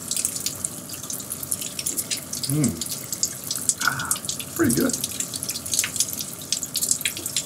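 Shower water runs steadily throughout, close and fairly loud, while someone speaks briefly over it.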